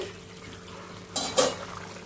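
A lid comes off a pot of braising Tapka chicken: two brief metallic clanks, close and moderately loud, over a faint steady kitchen background.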